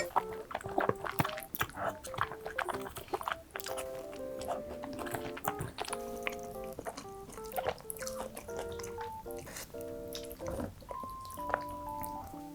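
Someone eats cheese-covered rosé tteokbokki up close, with wet chewing, biting and slurping sounds broken by short bursts of speech.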